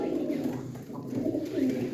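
Pigeons kept by a fancier in Diyarbakır coo in a low, continuous murmur, several birds blending into a steady warbling hum that stays moderately loud throughout without pause.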